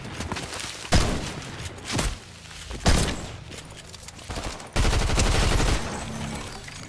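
Gunfire in a last-man-standing trios video game: loud, close bursts of automatic shots with sharp cracks and booms, including a sustained volley near the end, with no talking.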